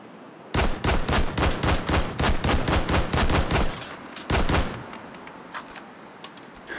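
Rapid bursts of gunfire in the VR shooter Hot Dogs, Horseshoes & Hand Grenades, a long run of loud, close shots in quick succession, a short pause, then another burst before things settle to quieter clatter.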